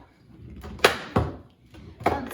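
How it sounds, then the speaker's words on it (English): A bowed mixing bowl, used while making sauerkraut, pops back into shape: three sharp, fairly close snaps spaced about a second apart, each with a short ringing tail, over a quiet room and with no talking. "That's the sound of the bowl popping."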